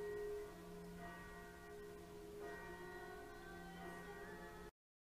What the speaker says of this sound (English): the bells will ring.